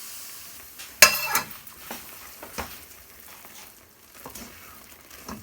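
Besan and ghee stirred in a pan for Mysore Pak make soft scraping and a faint sizzle, broken by one sharp clank of a utensil against the pan early on and a few lighter knocks.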